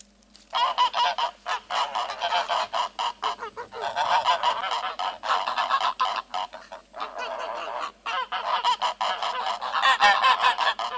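Geese honk loudly and almost without pause at a farm in Burkina Faso, a dense, overlapping flock calling in ragged bursts close by, with no voices over them.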